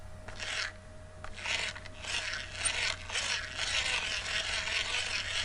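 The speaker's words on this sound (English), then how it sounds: "Sounds like this buggy needs a drop of oil on." A squeaky mobility buggy that needs oil gives repeated close scraping, grinding squeals in an uneven rhythm as it rolls along, with a faint steady whine underneath.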